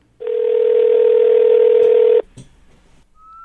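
A telephone handset carries a call being dialed on a live radio show: a steady, loud dial tone holds for about two seconds, then cuts off, followed by a short click and a faint rising tone.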